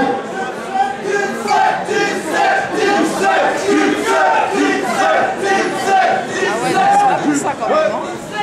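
Concert crowd at a Paris club venue roaring and cheering loudly and continuously, a dense wall of shouts and voices with rhythmic surges throughout.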